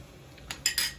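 A metal spoon skims foam from a pot of boiling tripe, making a few quick clinks and scrapes against the pot rim in under a second, fairly quiet and close.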